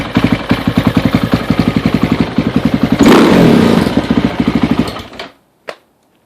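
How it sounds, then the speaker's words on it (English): A small dirt bike runs close by with a steady, rapid putter at idle, swells briefly as the throttle opens, settles back, then cuts off into silence with one last clunk. "Good running little bike."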